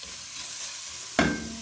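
Carrots and garlic fry in a pan for Szechuan Hakka noodles, giving a steady soft sizzle, then a sudden louder burst of sizzle and clatter as the pan is stirred near the end.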